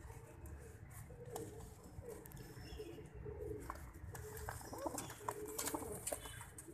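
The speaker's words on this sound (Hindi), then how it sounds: "ये आज टोटल हम आपको 6 कबूतर दिखाने लगे हैं" Several pigeons, including green pigeons, a breeding pair with their young, coo softly at close range over a steady low background murmur, with faint scattered pattering.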